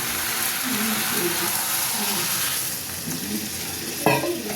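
Cooked spice masala in oil sizzles loudly and steadily in a pan while an enchor and prawn curry cooks, with a sharp burst as water goes in near the end, a voice talking over it.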